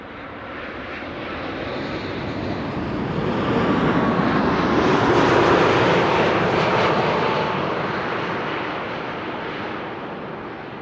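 Aircraft PH-BKL, a three-year-old airliner registered in 2022, passes near Amsterdam Schiphol with a broad roaring jet engine rumble that swells to a peak midway and slowly fades, loud and continuous with no talk.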